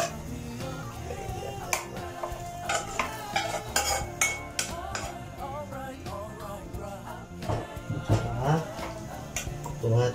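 Boiled mung beans added to a pot of bulalo beef stew, heard as clinks of a spoon against the pot and soft stirring and splashing close by.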